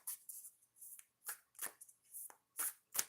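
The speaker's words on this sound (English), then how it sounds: "Shuffle this 3 times." A warrior tarot deck is shuffled by hand in short, crisp bursts of riffling cards, about eight quick rustles in a row, close and fairly soft with no talking.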